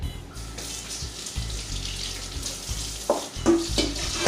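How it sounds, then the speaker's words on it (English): Pig trotters being rinsed with lemon juice and water in a kitchen, a continuous splashing and running-water wash with scattered clunks and handling knocks, close and fairly loud, no talk. "I'm gonna rinse it once with the lemon juice on it"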